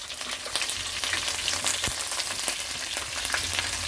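Small shallots sizzle and fry in hot oil in the pan for a Tamil fish curry, a dense, continuous crackle with occasional pops and stirring, close and alone.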